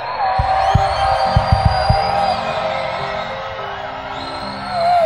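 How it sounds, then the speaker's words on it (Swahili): A large crowd at a public gathering shouts and cheers in a steady, loud roar, with a few sharp claps near the start before the noise settles and then swells again at the end. "watu wengine wapige kelele"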